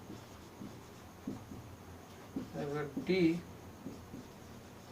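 Chalk or marker strokes on a board during a Hindi-language trigonometry lesson, a few soft scratchy taps and strokes under a teacher's brief quiet speech.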